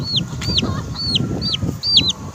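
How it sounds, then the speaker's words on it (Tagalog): Young chicks peep in rapid, high, repeated chirps while being moved in a backyard chicken coop, with rustling and low shuffling beneath the steady, close cheeping. "maglilipat ako ng mga sisiw mga kabakyard"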